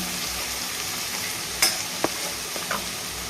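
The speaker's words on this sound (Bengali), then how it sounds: "পেঁয়াজ আদা রসুন সব সুন্দর করে ভেজে নেব" Onion, ginger and garlic fry in a pan with an even, close hiss of sizzling oil, punctuated by two or three brief clinks of a utensil.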